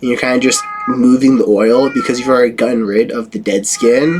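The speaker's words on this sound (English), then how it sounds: "That's just my cat." A cat meows a few times in the background while a person keeps talking over it at close range.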